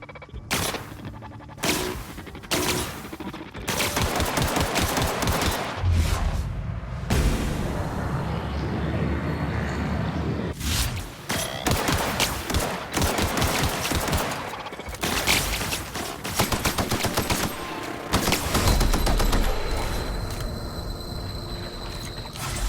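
Gunfire in The Outer Worlds video game rattles off in loud, dense bursts with brief pauses between volleys, close and sustained over the whole stretch, with no speech.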